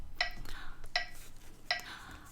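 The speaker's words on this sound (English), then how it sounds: "The metronome is going to help us keep the beat." Faint metronome clicks sound at a slow, even beat, three sharp ticks spaced roughly three-quarters of a second apart over a quiet room hum.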